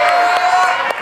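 Studio audience applause and cheering on the Family 100 game show, a dense, steady wash of clapping with a few whoops filling the short moment.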